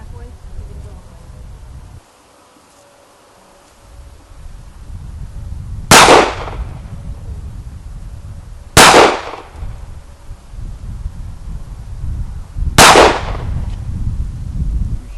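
Three loud, sharp gunshots from a Jimenez Arms JA Nine pistol fired outdoors, spaced a few seconds apart, each cracking well above a low background rumble.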